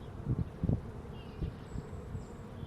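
Honeybees buzz around a hive in a low, continuous drone, with a few louder swells as insects pass close, no voices heard.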